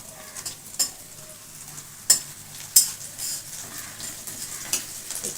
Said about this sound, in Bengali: এরপর দিয়ে দিচ্ছি চেরা কাঁচা লঙ্কা